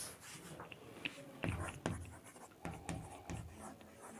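Marker or chalk writing on a board during a chemistry lecture, a series of short scratchy strokes and taps in uneven bursts, close and moderately loud.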